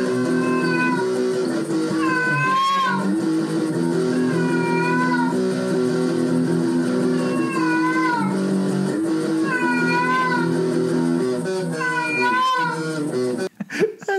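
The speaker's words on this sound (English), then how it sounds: "And there's also like a cat going crazy in the background." A cat yowls and wails in varying drawn-out cries within a music cover of Lemmings, the sliding meows repeating over steady loud instrumental backing throughout.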